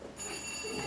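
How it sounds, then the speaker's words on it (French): A doorbell rings once indoors, a bright, sustained electronic tone lasting under a second against a quiet room. "On a sonné."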